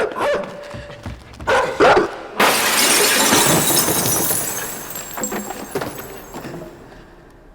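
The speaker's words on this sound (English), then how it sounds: "An angry dog goes on high alert" An angry dog in the video game INSIDE barks sharply several times, then a loud crash like shattering glass gives way to a long, noisy decaying rumble with a few fainter barks near the end.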